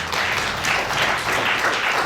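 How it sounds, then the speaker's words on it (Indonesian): Church congregation applauding during a sermon, a dense steady wash of many hands clapping at moderate volume for a couple of seconds. "Berikan tepuk tangan bagi dia."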